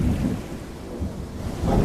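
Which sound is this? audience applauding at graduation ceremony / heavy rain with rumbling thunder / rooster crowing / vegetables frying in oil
heavy rain with rumbling thunder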